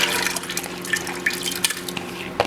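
Water is poured into a pot of soaked chana, moong and masoor lentils, a continuous splashing trickle with small drips and clinks, close up.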